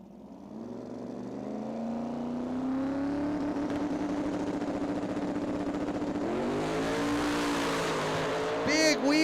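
Street car drag racer launching into a big wheel stand at a Las Vegas drag race, engine roaring steadily and rising through a long pull, heard at a distance under an announcer's commentary.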